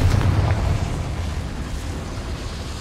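A Confringo fire spell goes off in Hogwarts Legacy with a deep booming blast up front that settles into a long rumbling roar, loud and without voices.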